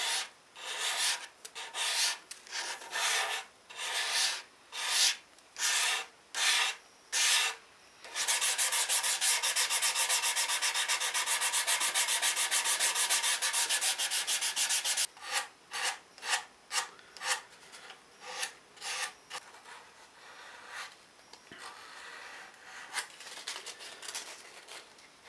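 A chamfer and faux binding are rubbed into the edge of a scratch-built wooden guitar body. Close, rhythmic abrasive strokes start it, then a long continuous stretch of rubbing, then more short strokes that fade and slow toward the end.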